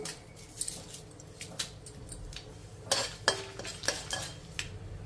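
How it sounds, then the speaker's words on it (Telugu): Cumin and other tempering spices crackle in hot oil in a pan while a utensil scrapes and stirs, giving faint sizzling under sharp metallic clinks and taps scattered through the clip. "పోపు దినుసులు వేగాయండి"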